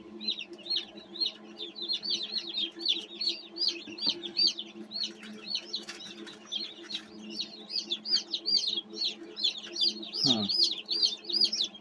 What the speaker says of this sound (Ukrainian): Дивимося, є курчата.